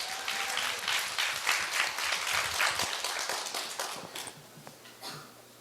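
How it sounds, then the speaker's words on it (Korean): An audience at a school speech contest claps for a student participant, giving brisk, dense applause with sharp individual claps that fades out over the final seconds. "큰 박수 부탁드립니다."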